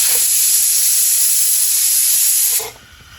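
Loud, sustained high-pitched hiss of steam venting from a pressure cooker whistle while cooking pea pulao, cutting off abruptly near the end.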